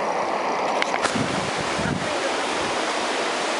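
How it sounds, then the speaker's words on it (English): Steady outdoor wind rushes and buffets the microphone throughout, a continuous broadband roar with no voices. "A little bit of wind"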